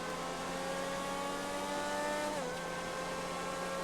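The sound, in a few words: X80 car engine revving in video game GTA 5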